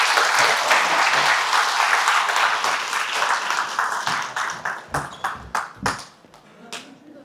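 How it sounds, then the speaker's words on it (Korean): An audience at a creditors' association event gives loud, sustained applause that thins into scattered individual claps and fades out near the end, while a voice talks faintly under it. "자, 다시 한번 큰 박수 부탁드립니다."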